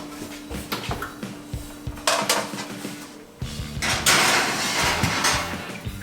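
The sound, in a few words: pizza pans being put into the preheating oven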